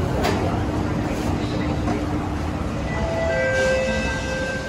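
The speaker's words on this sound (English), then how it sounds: "The train approaches." A Kawasaki CRRC Qingdao Sifang CT251 SMRT metro train draws into a Downtown Line station in Singapore, giving a steady rumble with rising tonal whine from the motors. A faint higher tone grows near the end. No voices.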